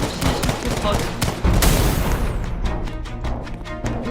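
A defensive tower in a Roblox tower-defense game fires rapid bursts, with a heavy boom midway followed by a clipped sequence of sharp shots, loud and close, with a voice talking over it.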